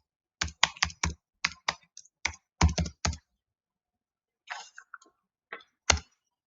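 Code being typed on a computer keyboard: a quick run of crisp, close keystrokes, a pause, then a few scattered taps and one firmer final key press, with no talking.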